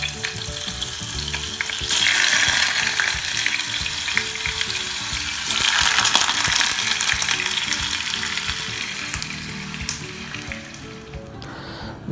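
Tofu sizzles and fries steadily in hot oil in a pan, a loud continuous crackle with two stronger surges of spitting, alone with no talking.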